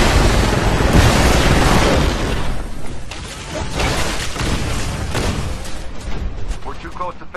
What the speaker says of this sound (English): Spinning up the cannon for another shot.